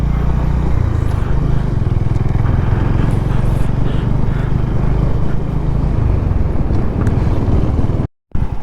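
A motorcycle on an adventure ride near Dalma Wildlife Sanctuary in India drones loudly and steadily for several seconds, its engine and wind rumble filling the recording before a sudden brief dropout near the end.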